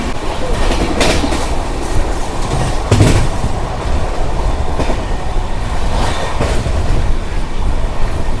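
A train pulls into Anakapalli station, its steady rolling rumble and wheel clatter running loud and continuous throughout, with brief louder bursts of squeal and clank along the way.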